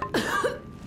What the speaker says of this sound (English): she just starts coughing on me